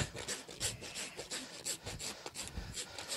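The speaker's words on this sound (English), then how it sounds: "we're going to file all that away" A rasp files down a horse's hoof, shortening the toe, giving repeated dry scraping strokes in an uneven rhythm, close and moderately loud with no talking.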